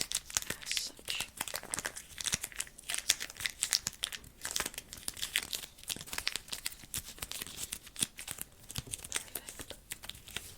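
Adhesive tape crinkles and tears while a nose is being taped, close and continuous, with dense rapid crackling and ripping bursts and no voices.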